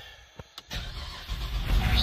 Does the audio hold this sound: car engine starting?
yes